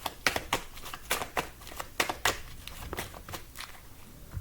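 Tarot cards being shuffled by hand, a quick run of crisp riffling snaps and flutters in uneven bursts, close and fairly quiet, with no talk.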